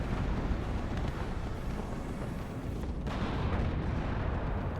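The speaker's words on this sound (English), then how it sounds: "Lots of fire being put down by these Abrams here." M1A1 Abrams tanks firing in the wartime strategy game WARNO, heard as dense, continuous booming roar of heavy gunfire and rumbling blasts, loud and sustained without clear separation between shots.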